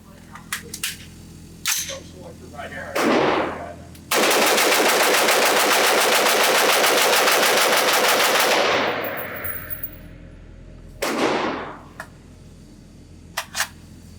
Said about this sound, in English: let me load up one of these magazines and just shoot it as fast as I can